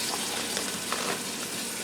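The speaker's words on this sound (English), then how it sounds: "I'm going to drop the meat in here and" Beef browns in an Instant Pot on the sauté setting, giving a brief, steady close-up hiss with faint crackles and no voices.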